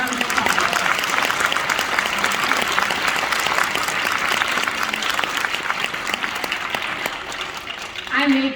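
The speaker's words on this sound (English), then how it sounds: "Let's go ahead and give them another round of applause." A concert audience applauds a high school honor orchestra, sustained dense clapping that carries on for several seconds and then thins out, with a few voices near the end.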